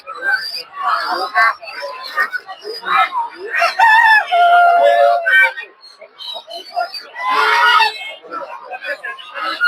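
Chickens and a rooster at a busy duck and chicken market in Tongi, loud close clucking and squawking with a drawn-out crow in the middle, among voices of people talking nearby.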